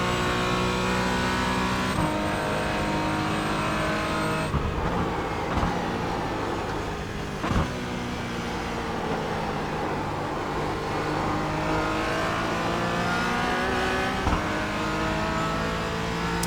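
Porsche Cayman GT4 engine in the iRacing sim at Sebring, a steady loud onboard drone with harmonic whine rising and falling through gear changes and brief downshift blips, running continuously without talk.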